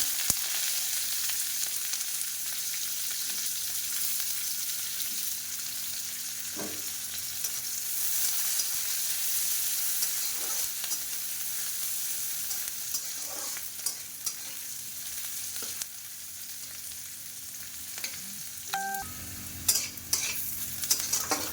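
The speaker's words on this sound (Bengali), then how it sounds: "আর কাঁচা লঙ্কা এই যে ভেজে এরপর দেবো পেঁয়াজ কুচি" Steady sizzle of green chillies, five-spice seeds and chopped onion frying in hot oil, broadband hiss throughout with occasional stirring clinks and scrapes, no voices.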